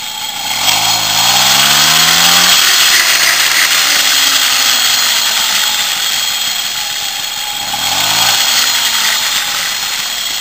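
A Motobecane Mobylette moped engine, which has an automatic clutch, revs up in two buzzy, rising bursts and then drops back to a high, raspy drone, loud and close throughout.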